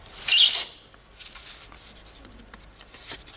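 Pins pushed into foam board give a short, bright scratchy crunch at the start, followed by faint light tapping and rustling handling noises close by.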